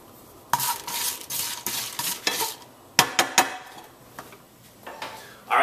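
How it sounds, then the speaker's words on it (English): Crispy bacon sizzles on a stovetop while a utensil repeatedly stirs and scrapes the pan, producing a series of rhythmic scraping bursts over a steady frying hiss, close and fairly loud, with no talking. "Let's head back to the stove and check on our crispy bacon."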